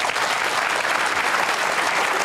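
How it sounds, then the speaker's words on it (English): An audience at a televised panel discussion breaks into dense, steady applause, many hands clapping together at close range without a break for the whole stretch. "You notice I pause for the expected applause by the audience."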